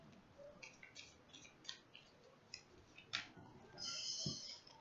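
Two tarot cards are drawn from a deck during a Taurus reading, giving soft papery flicks and light taps at scattered moments, with a brief sliding rustle near the end, all faint and close with no voices.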